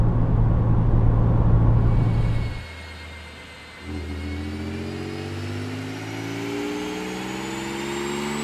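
A supercharged Nissan 370Z drives with a loud rumbling engine that drops off briefly, then builds again into a steady rising drone with a high whine on top, no talk.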